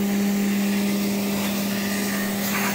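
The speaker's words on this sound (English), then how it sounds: "It's a vacuum cleaner." A 1962 Kenmore Whispertone 90 vacuum cleaner runs steadily with a loud, constant motor whine and airy rushing, unchanging throughout with no voices.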